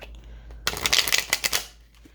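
A tarot card deck is riffled in one quick, close shuffle lasting about a second, with quiet room tone before and after.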